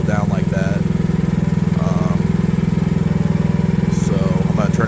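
An AGT mini excavator's small engine idles at low throttle, a steady, loud, close rumble that continues throughout, with some faint incidental noises over it.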